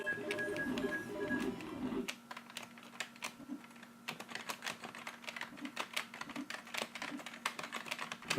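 Rapid clicking keystrokes on a computer keyboard while playing The Simpsons: Virtual Springfield on PC, irregular bursts of taps, close by, following a brief stretch of louder background noise at the start.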